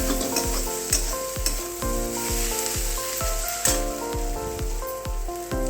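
Chicken pieces frying in a pan, a dense steady sizzle under regular knocking stirs roughly every half second, close and fairly loud, with no voices.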